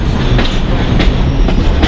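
Loud rumbling of the Potomac Eagle excursion train on rails, with rhythmic clickety-clack of wheels over track joints, close and continuous.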